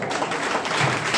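An audience claps in a dense, steady patter of applause lasting about a second, loud and close with no clear pauses.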